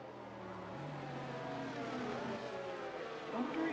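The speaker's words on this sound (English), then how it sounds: "at least the Aston's exhaust note sounds good" Aston Martin race car in a racing video game, its exhaust drone running steadily at high revs with shifting engine harmonics and a brief rise near the end, under commentary talk.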